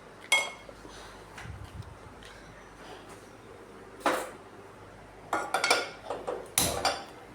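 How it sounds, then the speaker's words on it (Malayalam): Metal pan set down on a stove in a home kitchen, with sharp clanks and clinks of cookware, a few separate knocks followed by a cluster of rattling metallic hits near the end. "ആദ്യം നമുക്കൊരു പാൻ അടുപ്പത്ത് വെച്ച്"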